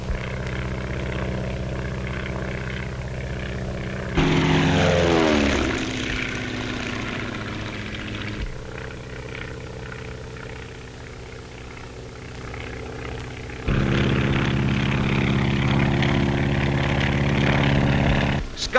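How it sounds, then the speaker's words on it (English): Propeller skywriting airplanes, strong planes cruising at over 120 miles an hour, drone steadily throughout, swelling louder as one passes close with a falling pitch, then fading and rising again near the end. "the planes have to be strong, yet capable of a cruising speed of over 120 miles an hour"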